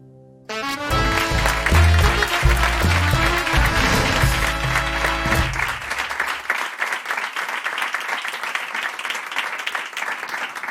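Audience applause rings out at the finale of the Parking Karaoke show. Music plays loudly at first, then dense, steady clapping carries on to the end.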